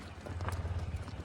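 A mare's hooves clip-clop in a quick, even rhythm of about a dozen soft, faint beats.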